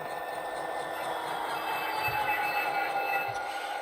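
A model train runs with a steady mechanical whir and faint high-pitched wheel squeal, a continuous moderate hum as it slows on the layout.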